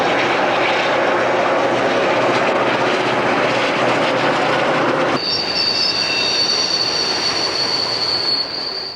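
A long Grand Trunk freight train rumbles steadily past, a broad roaring wash of wheels and cars, joined partway through by a high metallic wheel squeal.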